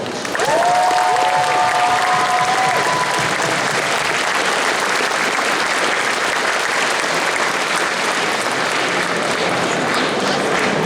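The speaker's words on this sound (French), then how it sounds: "je vous demande d'applaudir comme il se doit Cinderis" A large convention audience gives a cosplayer in a self-made costume loud, sustained applause, dense and continuous throughout, with a few whoops near the start.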